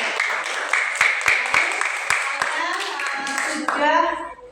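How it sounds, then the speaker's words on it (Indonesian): A classroom of students claps briefly for a lesson on gases, a burst of scattered hand claps that fades out into overlapping young voices. "tepuk tangan untuk benda gas"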